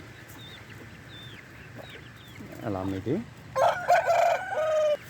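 Backyard hens cluck in short bursts before a rooster lets out a loud, drawn-out crow close by, with faint bird chirps in the background and a brief spoken remark.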